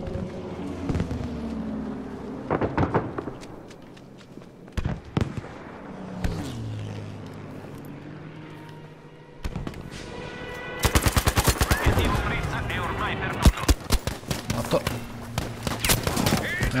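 Gunfire in Battlefield V during a Panzerstorm Conquest match: scattered single shots and sharp bursts early, then dense rapid automatic fire and explosions in the second half, with players chatting intermittently.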